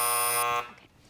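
A harsh electronic game show buzzer blares loud and steady for about half a second, then cuts off and leaves quiet room tone.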